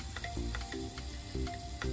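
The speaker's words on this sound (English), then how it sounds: "we will remove the lid and flip the quails so that they are roasted well from the other side" Quails roast in a covered pan with a faint, steady sizzle and small crackling pops.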